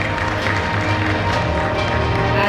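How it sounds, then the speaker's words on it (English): An audience at a panel discussion on AI and automation in debt collection applauds, a dense, even wash of clapping that holds steady at moderate loudness for the whole stretch. "Please round of applause."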